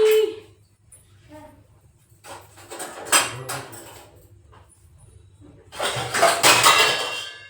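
A metal kitchen strainer and bowl being picked up and set down in a home kitchen, with sporadic clanks and clatters between pauses and a louder burst of rattling near the end.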